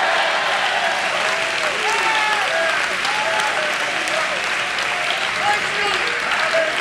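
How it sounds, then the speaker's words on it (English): A church camp congregation claps and shouts together, steady dense clapping under scattered raised voices and cries, continuous and loud throughout. "Everybody clap your hands and shout yes to the Lord."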